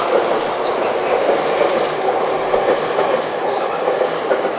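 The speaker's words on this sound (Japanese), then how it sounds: "14時27分発を発車します。" A train departing a station rumbles steadily with a continuous rolling clatter of wheels on rails, loud and close throughout.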